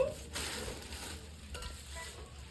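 Flatbread (rotla) scrapes and sizzles in a hot pan as it is stirred, a steady close frying sound with occasional louder scuffs.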